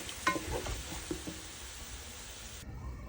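A vegetable manchurian mixture with soy sauce gets stirred in a pan, a few scraping and clinking strokes early on over a soft steady sizzle, fairly quiet and with no talk.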